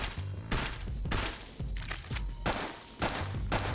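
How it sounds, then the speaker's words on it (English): Gunfire in the video game Intravenous 2: about six sharp, loud shots or short bursts in an uneven rhythm, each with a brief ringing tail, with no talking. "Guns will sound differently with different ammo types and suppressors."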